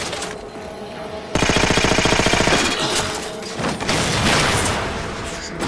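Halo 4 suppressor weapon firing in video game combat: a rapid, loud burst of automatic fire that runs for a couple of seconds after a brief quieter lead-in, followed by a dense, blasting battle din.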